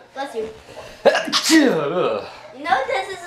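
One loud, sharp human sneeze bursts out close by right after a short bit of conversational speech, and more talking follows.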